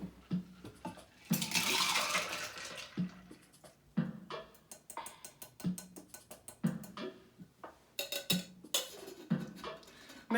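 A frosted, ice-filled tiki cocktail with grenadine is poured from a shaker into a glass: a short gush of liquid followed by a string of clinking, rattling ice cubes tumbling out in irregular knocks, close and moderately quiet.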